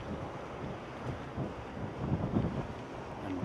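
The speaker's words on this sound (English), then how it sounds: "it's windy" Gusty wind blowing outdoors in Kansas City on a rainy October day, a steady low rumble of buffeting against the microphone that swells and eases throughout, with no talking.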